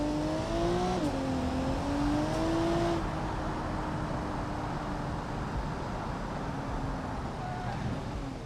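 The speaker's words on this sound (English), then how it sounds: "I swore I just heard a car." In the game BeamNG, a car engine revs and drones steadily, its pitch rising and dipping, then holding a sustained hum with a whirring tone.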